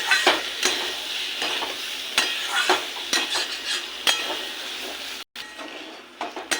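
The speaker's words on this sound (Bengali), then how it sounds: "আর একটু কষিয়ে নেবো।" Potato and pointed gourd stir-fry in a pan with spices. A spatula scrapes and stirs in repeated strokes over continuous close sizzling, with no voices.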